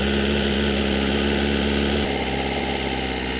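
A new 2025 BMW M1000R Competition motorcycle, started for the first time at four miles, idles with a loud, steady, close-up engine drone that holds an even pitch throughout, with no voices.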